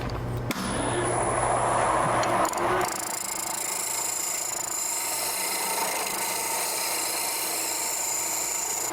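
Negative rake scraper cutting a wood spindle on a lathe, a continuous rasping scrape over the steady whir of the lathe, louder at first then settling into an even, close shaving noise.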